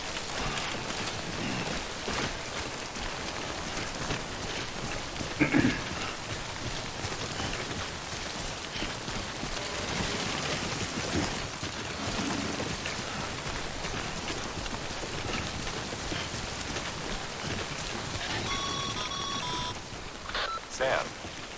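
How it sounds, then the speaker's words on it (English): Steady rain of timefall pours down in Death Stranding, a constant dense hiss throughout with occasional faint beeps and small knocks over it. "Don't stay out in the rain any longer than you have to"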